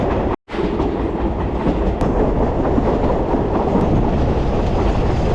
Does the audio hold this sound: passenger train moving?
yes